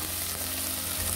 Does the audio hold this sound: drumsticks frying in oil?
yes